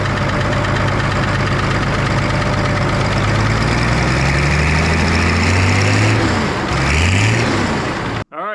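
A 30-ton excavator's diesel engine idles on its original exhaust, a loud, rough low rumble with uneven knocking pulses that dips and swells briefly near the end.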